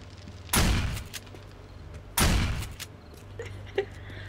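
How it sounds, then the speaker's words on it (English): Gunfire in the survival video game 7 Days to Die: two loud, sharp shots about a second and a half apart, each with a short decaying tail, followed by faint scattered background thumps. "I just hear that gunshot."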